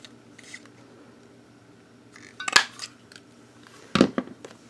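Scissors snip through card stock for a handmade greeting card, with a faint rustle early on, then a cut around the middle and a quick double snip near the end, close and fairly quiet.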